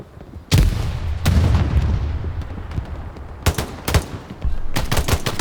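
Gunfire in the World War II shooter Hell Let Loose, winter map: loud bursts of automatic and rifle fire in several clusters with short gaps, booming shots close by over a steady rumble of distant battle.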